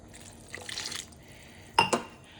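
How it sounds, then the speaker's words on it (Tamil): A tumbler of water is poured into a pot of ridge gourd and channa curry, a short splashing pour followed by two sharper splashes, close and moderately loud. "நான் இன்னும் ஒரு டம்ளர் தண்ணி ஊற்ற போகிறேன்."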